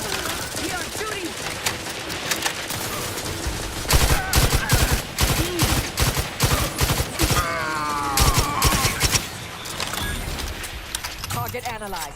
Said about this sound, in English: We are shooting.